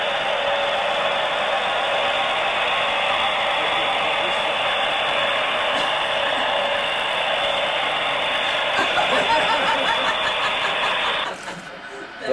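Freight train with two locomotive engines running, heard indoors in a basement as a steady, close mechanical whir with a fine ratcheting gear texture that holds evenly before cutting off abruptly near the end.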